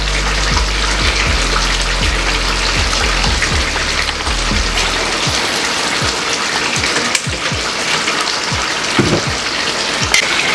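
Oil poured into a hot pan with turkey roast pieces, a loud steady sizzling hiss that fills the whole stretch, with occasional pops and crackles and no voices.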